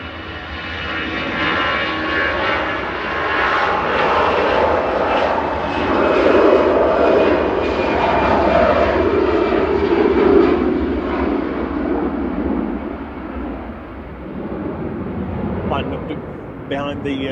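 An EasyJet airliner departs Manchester Airport, a loud continuous jet roar that swells and fades gradually over time, with talk over the engine noise.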